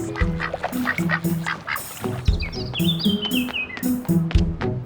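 Cartoon ducks quack repeatedly in a park, loud, close and rhythmic, with chirpy bird tweets rising above them partway through and light music beneath.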